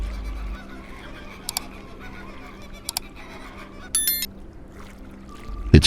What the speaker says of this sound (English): It is the voice of the African fish eagle, a typical bird of prey of the freshwater regions of Africa.